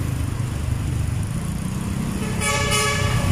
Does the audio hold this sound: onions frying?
no